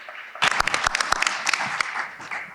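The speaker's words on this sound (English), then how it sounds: "So an applause also for Randy." Brief applause from a conference panel audience, a burst of individual claps that starts abruptly, peaks quickly and tapers off within a couple of seconds.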